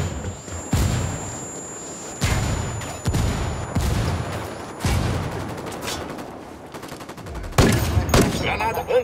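Bursts of rapid video game gunfire crackle with heavy booming artillery blasts, repeated every couple of seconds, loud and close, with brief shouted voices mixed in, in Ghost Recon Wildlands.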